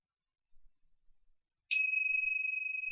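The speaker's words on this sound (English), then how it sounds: "So as you hear the bell" A single meditation bell strikes once to close a gentle chair yoga class, giving a clear bright ding that rings on with a slowly pulsing sustain, near and alone after a few faint soft sounds.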